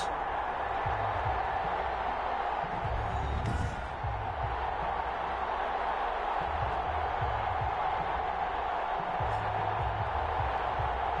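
A stadium crowd in a football video game before a Cleveland Browns versus Baltimore Ravens match, a steady, distant murmur and roar running underneath a commentator's speech throughout.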